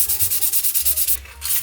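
Rhythmic strokes of 400 grit sandpaper rubbing over the metal bodywork of a Lancia 037 scale model car, about a dozen close, even back-and-forth passes with a brief pause near the end.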